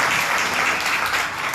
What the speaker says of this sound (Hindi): ताली बजाओ बच्चे।